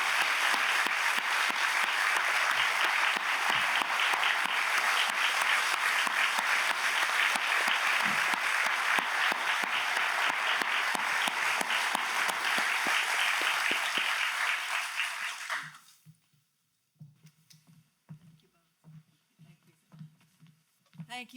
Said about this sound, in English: How about a big round of applause for this incredible group of public servants?